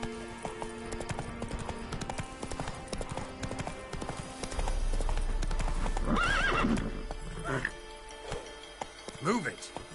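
Roach, a horse in The Witcher 3, clip-clops steadily and then lets out a clear neigh near the end, loud and close over game music and ambience, with talk over it.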